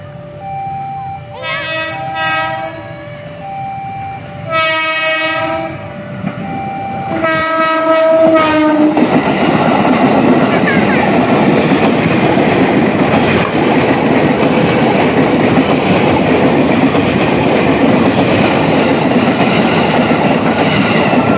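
A commuter line train horn blares in several loud tooting blasts, then the train rumbles past close by with a steady, clattering roar of wheels.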